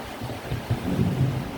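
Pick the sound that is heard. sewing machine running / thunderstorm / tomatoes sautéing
thunderstorm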